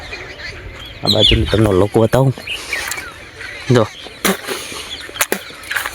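Farm birds and chickens call in the early morning, with several short bursts of clucking and squawks close by. Someone speaks briefly over the calls against quiet outdoor ambience.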